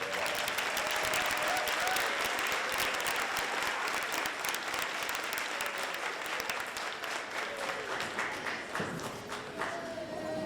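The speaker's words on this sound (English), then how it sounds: "one more round of applause for those students is absolutely great" Audience applause for students at a St. Albans City School fall concert, a dense, steady wash of clapping from a large crowd that holds throughout and thins slightly near the end.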